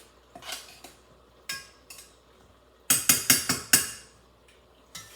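Crushed tomatoes are stirred in a pot for sambhar, a metal spoon knocking and scraping against the pot in sharp separate strikes, with a quick cluster of five loud clanks midway, close and without talk.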